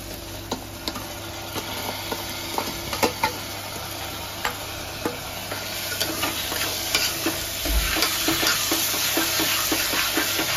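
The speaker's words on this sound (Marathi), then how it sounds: "थोडंसं टाकू आणि मग त्याच्यामध्ये तांदूळ टाकू." Raw rice tipped into a hot pan for a home-cooked New Year's Eve party meal and stirred, giving a steady sizzle with scattered scraping ticks of the spoon, close and continuous, no talk.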